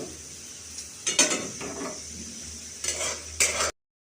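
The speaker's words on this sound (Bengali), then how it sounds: "আর একদিকে আলু ভাজাটা হচ্ছে" Potatoes fry in a pan with a steady sizzle while a spatula scrapes and stirs in a few bursts close by, then the sound cuts off abruptly.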